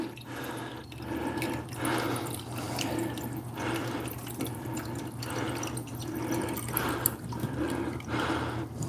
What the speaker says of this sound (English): Refill that water.